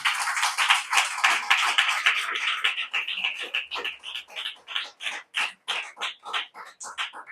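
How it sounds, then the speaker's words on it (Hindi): A church congregation claps for Jesus during a Hindi sermon, beginning with a dense burst of applause that settles into loud, evenly spaced rhythmic claps. "जोर से ताली बजा दे यीशु के लिए"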